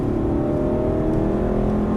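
An Aston Martin V8 Vantage accelerates hard on a racetrack, its engine a loud, sustained, rising drone with steady whirring harmonics and no talk.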